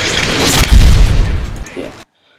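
Explosion sound effect used for gun sounds: a loud, booming blast with a broad rumbling body that sustains for about two seconds before cutting off abruptly to near silence.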